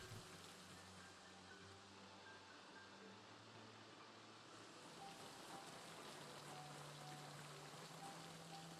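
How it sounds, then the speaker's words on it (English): Rain in the survival video game Project Zomboid, a soft continuous hiss of falling rain with faint patter, steady and low in level throughout, heard alone without voices. "We have a flash of rain."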